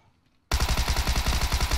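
Rapid automatic gunfire from the battle royale game PUBG, a sudden loud burst of evenly spaced shots starting after a brief quiet lead-in and continuing steadily to the end.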